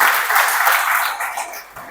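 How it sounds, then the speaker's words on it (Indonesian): Congregation clapping at a Sunday church service, a dense wash of handclaps that starts strong and gradually thins out before stopping near the end. "Kasih tepuk tangan untuk Tuhan."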